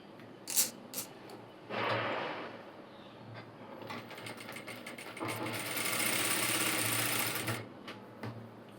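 A sewing machine stitches a shoulder seam in short runs, a near, rapid mechanical chatter that starts and stops, with a longer burst near the end and small clicks from handling in between.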